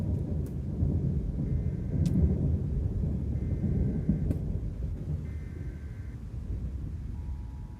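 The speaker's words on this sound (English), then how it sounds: "My storm audio, I keep forgetting how loud it is." Ambient thunderstorm in the Roblox game Twisted: a steady, loud wash of deep rumbling thunder and rain, with a few sharp crackles and faint tonal beeps over the storm bed, no voices.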